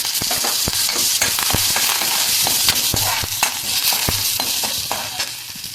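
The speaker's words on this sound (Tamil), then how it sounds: "பெருங்காயம் போட்டுக்கிட்டு பச்சை மிளகாயும் கருவேப்பிலையும் போட்டுக்கிறேன்" Asafoetida, green chillies and curry leaves crackle in hot oil with urad dal, a busy close sputter of quick pops and spits holding steady and easing slightly toward the end.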